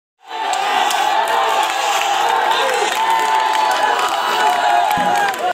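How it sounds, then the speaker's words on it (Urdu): A crowd at an indoor gathering honouring young people raises loud slogans and cheers, a dense sustained roar of many voices that swells in at once and holds for several seconds. "وہاں پر موجود شرکا نے خوب نعرے بازی بھی کی"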